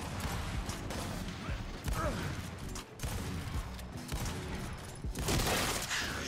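Gunfire in the video game Gears 5 during a ranked 2v2 match, quiet bursts of shots and clattering impacts in rapid succession, with a player talking over it.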